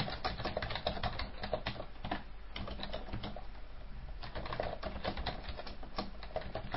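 Steady typing on a computer keyboard, with rapid, close-up key clicks in an uneven rhythm that thins out briefly near the middle before picking up again.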